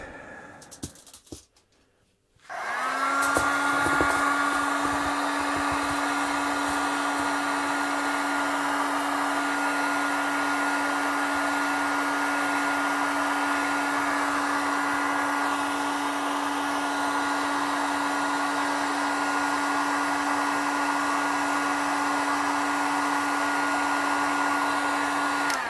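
A heat gun heating plastic to bend it for a DIY kayak GoPro chest mount switches on with a click and then blows with a steady whining roar, close and continuous.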